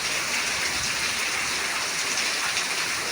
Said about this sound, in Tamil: பாருங்க மழை நல்லா பெய்ஞ்சிக்கிட்டு இருக்குது